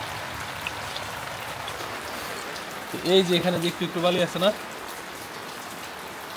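Steady rain falls at a rural farm site with pond and basin work underway, an even hiss of drops heard throughout, while someone speaks briefly in the middle.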